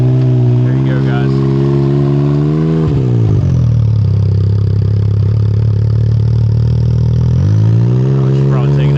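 A Can-Am X3 side-by-side with rear steer idles loudly nearby, its engine rumble dropping and shifting as it pulls away, then rising again toward the end, with voices talking over it.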